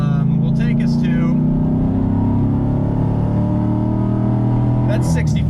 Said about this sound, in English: Little bit of gas, little bit of clutch, little bit of gas, and we're rolling